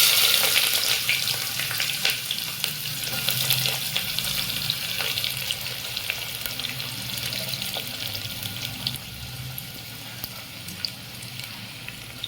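Peppercorns, cardamom and chopped onion fry in a pan for Bihari-style mutton curry, giving a strong continuous sizzle with sharp crackles and occasional stirring scrapes, close and steady throughout.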